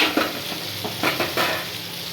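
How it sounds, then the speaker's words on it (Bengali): Fried potatoes are stirred in a hot pan with spices, sizzling steadily while a spoon scrapes and turns them in a few loud strokes, close up. "এবারে আলুটা দিয়ে একসাথে একটু কষিয়ে তারপরে জল দিয়ে দেবো"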